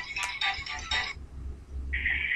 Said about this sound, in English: That's her ringtone, yes.